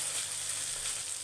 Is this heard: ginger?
yes